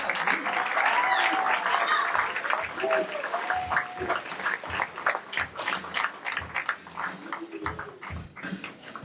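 Sustained applause from a crowd, loud and dense at first, then thinning into scattered claps with a few cheers and voices mixed in.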